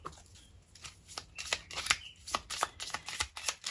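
Playing cards handled and shuffled close up, with a series of crisp riffling and flicking bursts that grow denser toward the end.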